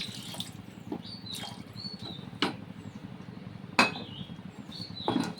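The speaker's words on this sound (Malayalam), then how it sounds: "കുറച്ച് വെള്ളം കൂടി ഒഴിച്ചു കൊടുക്കാം." Water is poured into a pan of masala on a home stove, a faint steady trickle broken by a few sharp clinks of utensil against metal.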